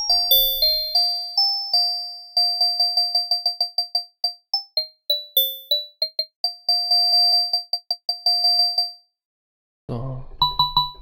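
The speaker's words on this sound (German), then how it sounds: "höre ich schon, wie dieser Glockensound kommt, wenn ich ganz hohe Glocken nehme" A melodic run of bright FM-synthesized bell tones, pitched a few octaves high, with clear metallic overtones, some sustained and some in quick repeated hits, ending in a brief noisy burst.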